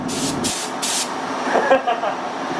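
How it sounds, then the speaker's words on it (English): A paint spray gun hisses in bursts as it coats car parts on a rusty kit car body, three short loud blasts followed by quieter spraying, with a voice talking over it. "Look at me with a paint gun."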